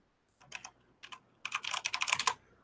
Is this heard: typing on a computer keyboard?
yes